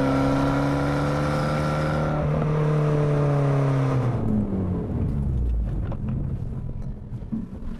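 A Fiat Abarth 595 engine revs hard under acceleration, its rising growl loud and close, then gives way to rougher, noisier roaring and rumble as it pulls away.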